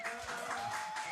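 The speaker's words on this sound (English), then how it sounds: "I need some applause, please." An audience at a live show applauds steadily throughout, a dense even wash of clapping with a faint sustained tone underneath.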